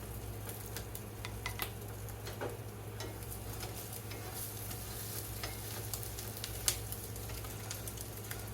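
Browned crispies are scraped off the bottom of a frying pan: a quiet, continuous sizzle under scattered scratchy strokes and small taps of a utensil against the pan.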